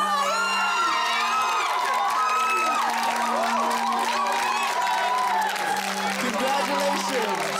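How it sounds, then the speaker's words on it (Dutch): An audience applauds and cheers loudly for a tribute performance, with whoops and shouting mixed into steady clapping while a strong tonal hum and voices run underneath. "Mag ik een heel groot applaus, dames en heren"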